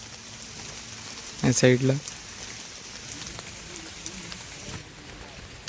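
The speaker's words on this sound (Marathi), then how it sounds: "तुम्ही बघू शकता की रिमझिम पाऊस चालू झालेला आहे" Light drizzle falls over a farm during tree planting, a soft, even patter steady in the background, with a brief spoken phrase partway through.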